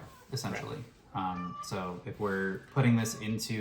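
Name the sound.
cat meowing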